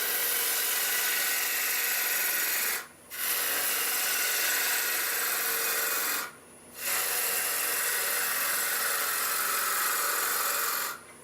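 A lathe tool cuts a spinning wooden cowboy hat, giving a steady hissing scrape that runs continuously with two brief pauses where the tool lifts off, fairly loud and close with no talk.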